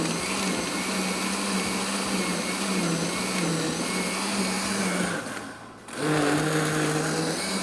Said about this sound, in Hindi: फिर दोबारा पीसना शुरू कर दिया